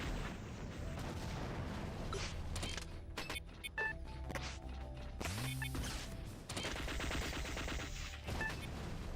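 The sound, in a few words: double turret gunfire in a video game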